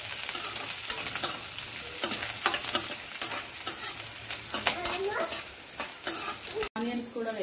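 Two dry red chillies fry in hot oil for a spicy chicken snack, a continuous close sizzle broken by repeated scraping stirs of a spatula, with a brief voice underneath.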